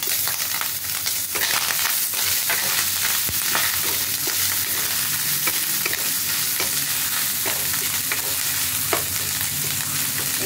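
Prawns and green chilies fry in a pan with constant crackling sizzle and repeated scraping, clattering stirs, close and lively throughout without speech.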